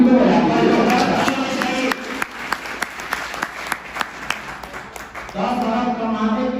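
Audience at a business seminar in Utsav Garden, Garhwa, bursting into applause: dense clapping at first, then thinning into scattered separate claps, then swelling again into full applause, with voices mixed in.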